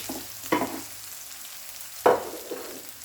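Flour being stirred into onions frying in a pan for smothered pork chops: a low sizzle runs under two distinct scraping stirs of a utensil against the pan, close and alone without speech.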